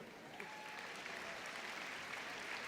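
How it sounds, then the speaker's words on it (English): A crowd at the Crufts 2020 terrier group judging breaks into sustained applause and cheering as a Russell Terrier enters the ring, a steady wash of clapping heard from a distance throughout. "Oh, big cheer there."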